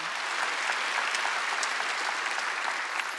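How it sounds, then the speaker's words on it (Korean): A church congregation at a Korean Wednesday worship service applauds, a steady dense wash of many hands clapping that holds at an even level throughout, with no voices standing out. "박수 치라고."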